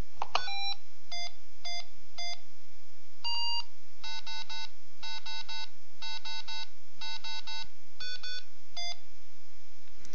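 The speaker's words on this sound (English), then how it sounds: "when I press this accept button it will beep out the current time" A homemade assistive device for the visually impaired beeps out the current time in coded groups of short, clear electronic tones. The loud, close beeps come in distinct clusters of one to several, separated by brief pauses, with no voice.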